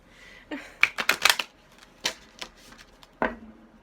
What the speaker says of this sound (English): now the deck is being finicky that it doesn't really want to shuffle